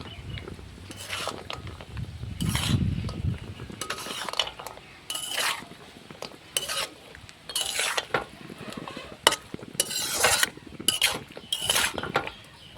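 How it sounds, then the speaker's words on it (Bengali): Red amaranth greens and lentil dumplings are stirred in a pan, the spoon scraping and clattering against the metal in bursts about once a second, with a faint sizzle underneath and no talking. "এখন শাক আর ডালের বড়িগুলোকে একসঙ্গে মিশিয়ে নেব।"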